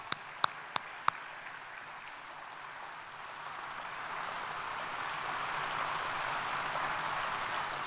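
A large outdoor festival crowd at a park gives prolonged, steady applause, a broad wash of clapping that swells slightly and holds, with a few sharp louder claps near the start.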